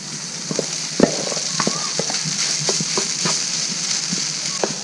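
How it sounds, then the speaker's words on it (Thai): Chopped garlic and rice stir-fried over high heat for Thai shrimp-paste fried rice: a steady, loud sizzle with scattered scraping and stirring clicks close by. "ผัดกระเทียมให้มีกลิ่นหอมก่อนนะครับ ใช้ไฟแรงนะครับ กระเทียมมีกลิ่นหอมขึ้นมาแล้วก็ใส่ข้าวลงไปครับ"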